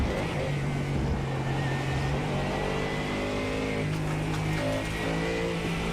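GT race cars charge down the Kemmel Straight at Spa-Francorchamps during a 24-hour endurance race, a loud, continuous engine drone with layered pitches that climb and shift as cars pass close together.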